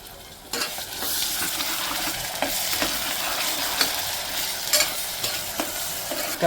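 Biryani being stirred and mixed in a hot pan, with continuous sizzling and frying plus repeated scraping strokes of a spoon against the pan, close and steady with no talk.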